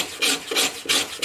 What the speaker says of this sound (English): you can take it out with a scraper really fast